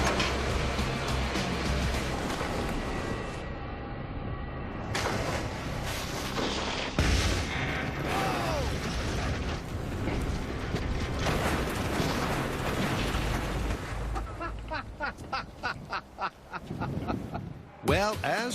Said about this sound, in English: the gas tank took the brunt of the impact and did burst into flames